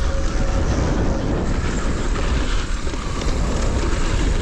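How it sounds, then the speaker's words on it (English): Wind rushes over the microphone on a mountain bike trail, a loud, steady, broadband roar with low rumble that barely lets up. "I can feel the wind there."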